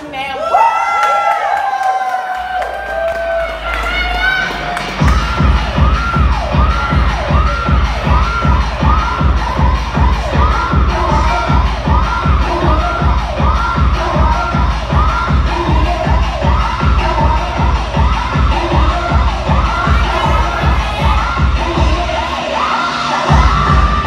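A crowd at Queen's Bar cheers, whoops and shouts loudly over a steady, pounding music beat, the noise building after a few seconds and staying dense throughout.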